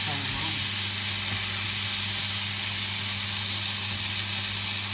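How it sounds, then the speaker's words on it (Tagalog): Tomatoes sautéing in a pan with garlic, ginger and onion for a coconut-milk cream dory dish, giving a steady, close sizzle and hiss that runs throughout under a low background hum. "So, kailangan isang gisado yung ating kamatis."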